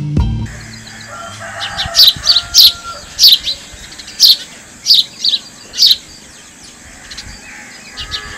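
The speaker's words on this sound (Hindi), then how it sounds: "वाह कितनी प्यारी चिड़िया है, मेरा दिल करता है इसके परों पर बैठकर बादलों की सैर करूं।" A parrot chirps about eight times in quick, uneven succession: short, sharp, bright calls, close and clear, with no voices.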